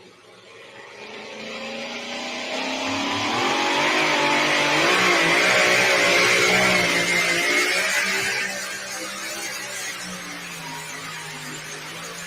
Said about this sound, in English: For the super stock diesel trucks, as well as the four-wheel drive trucks tonight.